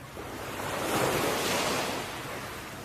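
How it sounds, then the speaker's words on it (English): Ocean waves roll onto a tropical beach, one broad surge swelling and receding in a soft, continuous wash with no voices. "as you listen to the rhythmic ocean waves"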